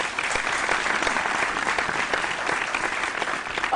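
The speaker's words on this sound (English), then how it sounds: "A round of applause for them." An audience at a girls' senior high school quiz contest gives a brief, steady round of applause. The dense clapping continues without pause, with no talk over it.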